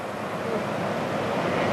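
Big ocean swell surf from a forecast 13 to 16 foot swell rolls in as a steady, loud, broad wash of crashing water and wind, with no voices.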